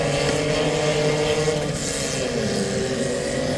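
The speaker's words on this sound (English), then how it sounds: "We'll hear the engine revving up in the background just outside of our commentary booth." Race engines rev together at a motorsport start line, a steady dense engine roar outside a commentary booth, loud and continuous with layered droning tones.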